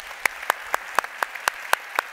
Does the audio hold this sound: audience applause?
yes